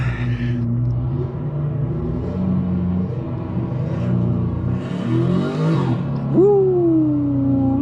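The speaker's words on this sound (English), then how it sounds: "This car sounds absolutely amazing, I must say." BMW E92 coupe accelerating on the Nürburgring Nordschleife during a tourist day, heard from inside the car: a steady low engine rumble that rises in pitch as revs build, followed by a sharp whine as it pulls hard.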